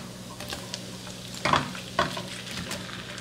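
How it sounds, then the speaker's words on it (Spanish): Shrimp frying in a hot pan give a continuous sizzle, with two sharp, louder bursts of crackling near the middle as they are stirred and tossed. "le voy a agregar los camarones. Los agregamos todos."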